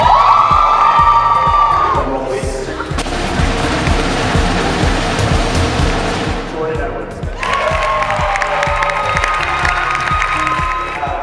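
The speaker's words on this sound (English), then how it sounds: "give yourselves a round of applause for what you guys did" A party crowd at an awards event bursts into loud applause, cheering and whoops, sustained throughout with shouting voices mixed in and brief talking at the start.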